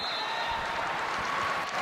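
Volleyball crowd rising to its feet in a gym during a men's match, a steady, fairly loud wash of cheering and applause that holds throughout.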